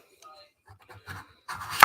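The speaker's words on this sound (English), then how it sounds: "I'm back to the chopping up the whole pumpkin" A large chunky knife cuts through a whole raw pumpkin, with a few quiet taps and scrapes building to a louder thudding chop on the board.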